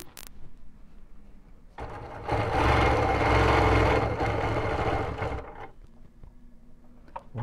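BERNINA Q Series sit-down quilting machine running in one burst of rapid stitching for a few seconds, close and steady, between quieter moments of handling.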